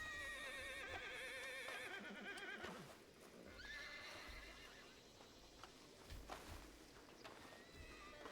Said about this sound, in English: I hear horses, I don't see horses